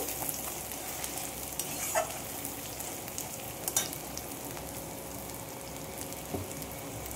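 Spices sizzle and fry in hot oil while a utensil scrapes and stirs the pan, with a few clinks of metal; no talking.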